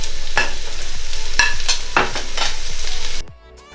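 Ginger paste, garlic paste and four slit chillies being stirred into a south Indian beef curry in a pot, rhythmic spoon scrapes roughly every half second over a loud, steady sizzle.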